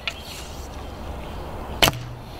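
One crisp string snap and thud as an arrow leaves a 1977 Bear Archery Tigercat recurve bow, sharp and close, coming after a couple of seconds of quiet ambience.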